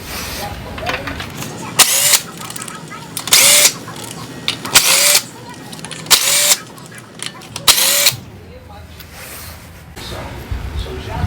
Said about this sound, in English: 24-volt impact cordless gun made by Goodyear